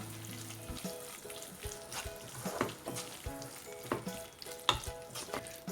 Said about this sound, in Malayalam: ഇനി ഇത് വീണ്ടും ഒന്ന് മിക്സ് ചെയ്ത് കൊടുക്കാം.